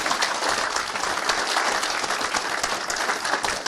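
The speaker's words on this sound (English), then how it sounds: "maybe we can give them a round of applause" Conference attendees at BSides Cheltenham applaud the organizers and volunteers, a dense, steady clapping from a room full of people that holds at a moderate level without talk.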